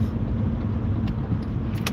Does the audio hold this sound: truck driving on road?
yes